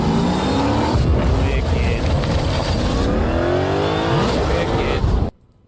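A Ford Mustang GTD with a 5.2-liter supercharged 800-horsepower V8 drives loudly and close, its engine note rising and shifting steadily for several seconds before cutting off abruptly.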